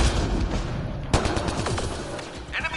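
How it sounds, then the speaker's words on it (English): Enemy gunfire in the video game Mass Effect Andromeda during a hacking standoff, with dense rapid shots over a continuous combat din and a sharp loud crack partway through. "Enemy fire! Careful!"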